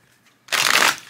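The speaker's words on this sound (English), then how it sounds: "That was a terrible shuffle." A deck of tarot cards is shuffled once in a quick, close riffle, a short papery burst of about half a second after brief quiet.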